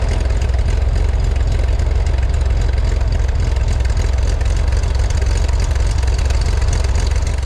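A Chevrolet Corvair engine with a misfire idles loudly and close by. It gives a continuous low rumble with slightly uneven pulses and no voices.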